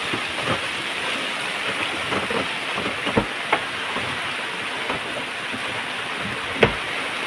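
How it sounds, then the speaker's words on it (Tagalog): Heavy rain falls at sea on the Pacific during a typhoon, a steady dense hiss with scattered louder splashes and knocks, close by and without talk. "Lakas ng ulan, no?"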